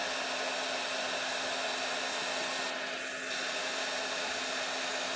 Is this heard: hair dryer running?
yes